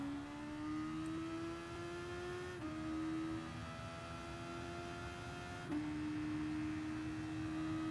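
Race car on the Suzuka Circuit in Gran Turismo Sport, its engine whining loudly and steadily as it accelerates, the pitch climbing and dropping sharply at two quick gear shifts, with no voices.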